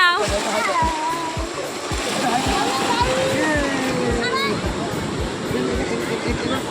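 Sea water splashes and washes at Digha beach, a steady loud surf noise close by, with people talking and a voice over it.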